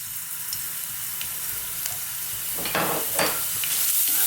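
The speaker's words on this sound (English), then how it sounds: "just fry this garlic on its own, just for a few seconds" Garlic fries alone in a little regular oil in a hot pan, giving a steady close sizzle with brief louder crackles as it is stirred, and no voices.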